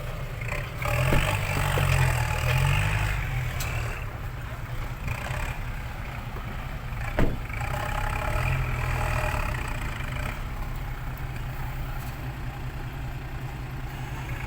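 A Kubota L5018 tractor engine idles and runs steadily, a low droning chug that holds throughout, rising slightly near the start, with a brief knock partway through.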